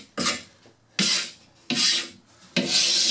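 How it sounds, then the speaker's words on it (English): A hand scraper rasps old shellac off the wooden trim of a small skiff, four long harsh strokes separated by short pauses, close and loud with no talking. "the first thing we need to do is scrape all the old shellac off, and then it'll get sanded"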